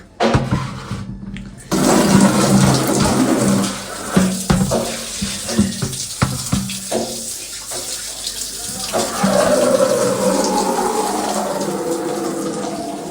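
Water runs steadily from a tap into a bucket or tub for a morning bath, a loud continuous gush with splashing that starts after a short pause and carries on without letup.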